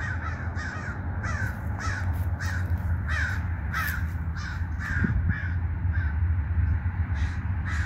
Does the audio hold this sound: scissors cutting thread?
no